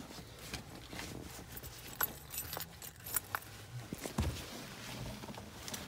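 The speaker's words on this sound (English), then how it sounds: "Just grabbing the keys here." Keys to a 2019 GMC Sierra 1500 pickup jingle and clink as they are grabbed, bright metallic rattles scattered across several seconds amid handling knocks and a brief low thump.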